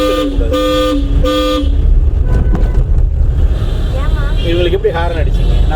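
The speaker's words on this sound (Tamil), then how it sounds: "இவங்களுக்கு எப்படி ஹாரன் அடிச்சிங்க? நான் சொல்லி அடிச்சிங்க." A driving-school car's horn gives several short, loud honks close by, followed by a rising and falling electronic horn pattern over engine and road noise.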